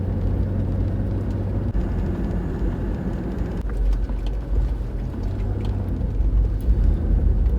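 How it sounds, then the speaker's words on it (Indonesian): A 1995 Mitsubishi Pajero with a 3000 cc V6 climbs a hill in second gear, giving a steady, heavy engine drone and road rumble from inside the cabin, with no talking. "Gigi 2 tanjakan dengan mudah, 3000 cc V6 top punya Pajero ini ya."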